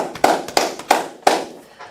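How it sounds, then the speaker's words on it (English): Four sharp hand claps, roughly evenly spaced, near and loud with a short ring after each, plus a few softer taps between them. "Clap it up, clap it up."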